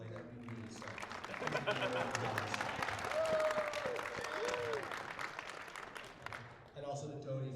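Audience at a tabletop gaming tournament claps in a steady round of applause, with some voices mixed in beneath the clapping.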